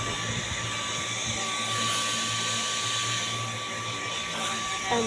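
A small handheld electric fan whirs continuously close by, a steady airy hum with a constant high motor whine throughout.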